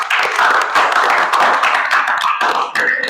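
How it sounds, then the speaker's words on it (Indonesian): In a classroom Islamic religious education lesson, children clap together in a loud, dense burst of quick overlapping claps that continues without pause for about three seconds. "Tepuk tangan."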